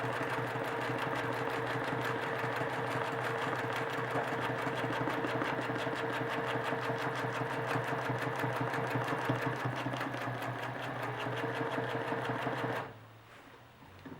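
A sewing machine stitching with bobbin thread runs in a fast, steady mechanical whir with rhythmic needle ticks, close and continuous, then cuts off sharply near the end.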